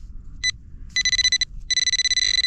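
A metal detector sweeping a field near the site of an old tavern gives a short blip, then two longer warbling tones as it passes over a small coin, loud and clear against faint background noise.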